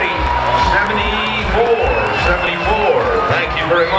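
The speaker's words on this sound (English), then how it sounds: "Give him a nice round of applause and a score." A rodeo crowd at the 2013 Cassia County Rodeo applauds and cheers steadily, with whoops rising from a dense, continuous roar while an announcer talks over it.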